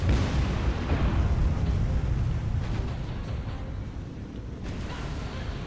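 Torpedo salvo explosions rumble in the naval video game War on the Sea, heard as a sustained, heavy, booming roar that slowly fades over several seconds.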